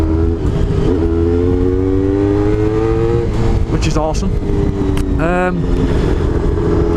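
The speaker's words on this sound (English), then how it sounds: "with an exhaust I've got now, it's kind of a muffled, loud sound" A Honda RVF 400 motorcycle engine with a loud, muffled aftermarket exhaust idles and revs repeatedly, the pitch rising and falling, while someone talks over it.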